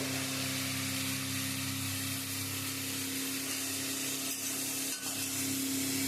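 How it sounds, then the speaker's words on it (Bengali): Bottle gourd pieces going into a hot pan for a gourd-and-prawn dish, with a steady loud sizzle and frying hiss throughout plus scraping stirring sounds, no voices. "আস্তে আস্তে লাউগুলো দিয়ে দেবো।"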